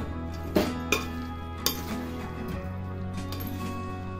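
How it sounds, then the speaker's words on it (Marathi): Boondi laddoo mixture being stirred in sugar syrup in a pot for Diwali, giving a few sharp metallic clinks of spoon against pot over a low steady background hum, with no talking. "थोडंसं असं हलवून घ्यायचं म्हणजे पाक वरचा खाली वरचा मुरतोय"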